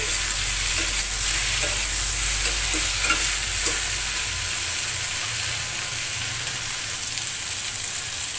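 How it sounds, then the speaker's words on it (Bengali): Okra sizzles steadily as it fries with mustard seed tempering, salt and turmeric in a pan, with occasional stirring scrapes and light crackles over a continuous hiss, close and fairly loud, no talking. "ভেন্ডিটাকে ভাজা ভাজা করে নিচ্ছি"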